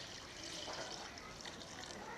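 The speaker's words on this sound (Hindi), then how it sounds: "एक गिलास पानी शामिल कर लेंगे।" Water pours steadily into a cooking pot while making ojri, a soft continuous splashing and trickle, fairly quiet and close.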